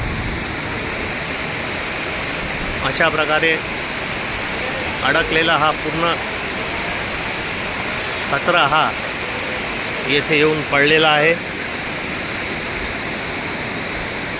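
The Bordi river, flooded and overflowing after heavy rain, roars as a continuous loud rush of water, with someone talking in short bursts over it.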